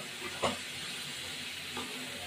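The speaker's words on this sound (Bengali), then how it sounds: "এবার একটু ভাজা হোক" Jackfruit frying in a pan with onion, garlic and ginger gives a steady close sizzle and hiss, with a couple of brief stirring scrapes on top.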